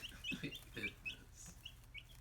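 Quiet clucking from a few chickens, short soft bursts with thin chirps between, somewhat distant and without talk.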